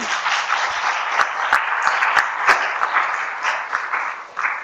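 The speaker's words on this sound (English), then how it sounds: "I think we should give a round of applause for that" An audience at a public meeting on lung cancer drug development breaks into applause, a steady wash of many hands clapping at close range, holding evenly for a few seconds.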